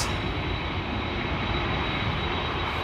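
A KLM Boeing 787-10 Dreamliner jet gives a continuous broad engine roar at moderate distance, steady and unbroken with no talk over it.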